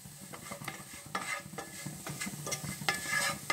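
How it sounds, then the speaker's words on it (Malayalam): Spoon stirring powdered spice masala in a pan for a jackfruit cutlet, with steady scraping strokes and a soft sizzle underneath, close and continuous with no talking. "ഇനി ഇതെല്ലാം നമുക്കൊന്ന് നന്നായി ഒന്ന് ഇളക്കി കൊടുക്കാം"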